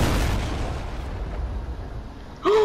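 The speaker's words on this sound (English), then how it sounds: "There's a rocket coming this way." A rocket explosion in the video game Fortnite, a loud close boom bursting at the start and rumbling away over a couple of seconds, followed by a brief tonal game sound.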